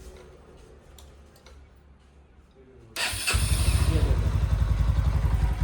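A Bajaj Pulsar NS125 motorcycle is switched off during a service, then restarts with a sudden loud catch and settles into a steady, close, throbbing idle.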